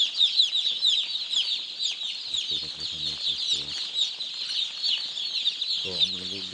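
Chickens on a poultry farm, in a shed holding young chicks, cluck and chirp in a steady high chatter throughout, with a few louder clucks standing out near the end.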